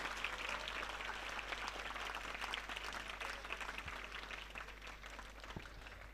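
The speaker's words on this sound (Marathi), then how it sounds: "जोरदार टाळ्या उद्या ओंबासे सरांसाठी" Applause fills a hall as a teacher is honoured at a school ceremony, a dense, even wash of clapping from a crowd heard at a moderate distance.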